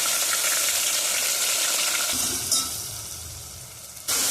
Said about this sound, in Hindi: अब हम इसमें अदरक लहसुन का पेस्ट और हरी मिर्ची का पेस्ट डाल देंगे।